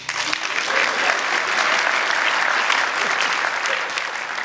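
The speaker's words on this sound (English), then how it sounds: "Everyone give Tom a clap." Theater audience at a cabaret show applauding a volunteer on stage, loud continuous dense clapping filling the room evenly for several seconds.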